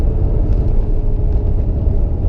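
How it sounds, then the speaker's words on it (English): A 500+ hp turbocharged Camaro accelerates hard in third gear, a loud, steady, deep engine rumble heard from inside the car with no talking. "Third gear pull."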